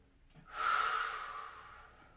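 A single deep breath during a vinyasa yoga session, a soft, airy exhale that swells quickly and fades over about a second and a half, close and alone with no talking.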